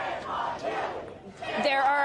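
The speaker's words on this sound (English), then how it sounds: "There are hundreds of people chanting "Shame on you."" Crowd of hundreds of protesters at a Columbia University police raid chanting a rhythmic slogan in unison, loud and sustained with crowd noise rising toward the end.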